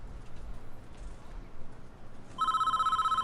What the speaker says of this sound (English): Oh, got a phone call from the mayor.